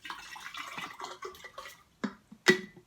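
Water is poured in quiet, irregular splashes into a plastic water bottle, up close, ending with a louder splash.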